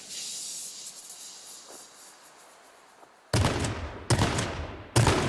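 Gunshots in the H1Z1 game: after a stretch of low hiss, three loud, sharp shots ring out close by, each cracking hard with a quick trailing decay, spaced roughly a second apart.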